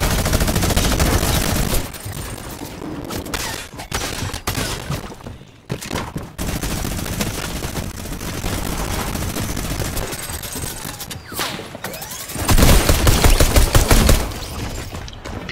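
Rapid gunfire from a Fortnite match, loud and dense throughout with bursts of automatic and pistol shots, a brief lull near the start and a heavier barrage toward the end.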